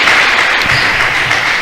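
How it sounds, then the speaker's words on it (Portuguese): Loud, close applause from a church congregation during a worship service, a thick continuous wash of clapping lasting a brief moment with no speech over it. "Vamos dar mais uma salva de palmas para louvar o santo nome do nosso Salvador Jesus."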